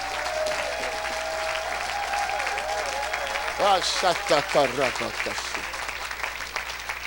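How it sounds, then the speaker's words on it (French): Church congregation at an evangelical service applauding and cheering for Jesus Christ, a dense, sustained wave of clapping that swells midway, with voices shouting and singing over it. "Acclamez Jésus-Christ. Acclamez plus fort que ça."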